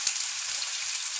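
Potatoes frying in a pan, cooked ahead of chicken wings for a curry, give a steady close sizzle that runs unbroken through the short moment with no voices.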